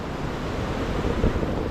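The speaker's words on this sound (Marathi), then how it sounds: "पुरा ब्रिजला पाणी टेकत आलं" Flooded river in the first monsoon rain, its water rushing high against a bridge in the Konkan: a dense, continuous broadband roar, loud and steady throughout.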